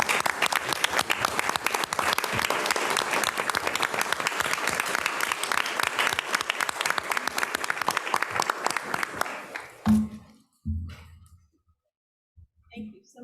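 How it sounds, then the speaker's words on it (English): A room at a school board meeting breaks into a sustained round of applause, steady dense clapping from the audience for about ten seconds before it fades into scattered claps and quiet. "Let's give him a round of applause."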